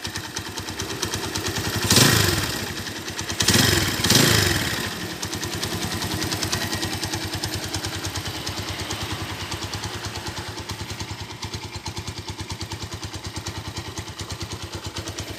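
A 2012 200cc motorcycle engine idles steadily with an even, rapid putter, briefly revved twice early on before settling back to a smooth idle.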